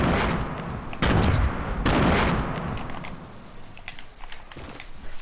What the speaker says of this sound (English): I found some hand grenades on the ground, so I'm just going to throw them in,